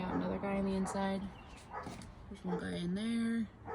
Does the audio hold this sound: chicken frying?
no